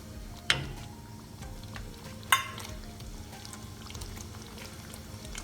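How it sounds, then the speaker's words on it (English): Cut tomatoes cook in a pan for chicken jalfrezi, giving a soft, steady sizzle near at hand, broken twice by sharp clicks of a utensil against the pan. "Now I'm going to add these tomatoes which are cut. Let it cook with this for at least 1 minute"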